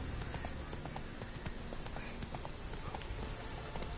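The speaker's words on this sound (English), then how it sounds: "Come on, you stupid horse." Horse hooves clip-clop at a steady gallop in The Witcher 3, a continuous rhythmic patter set in a dense, noisy game soundscape with no talking over it.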